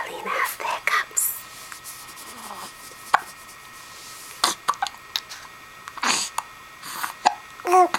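Small child hiccuping in short, sharp bursts spaced irregularly, close and fairly loud, with soft whispery breaths and an adult's voice between them.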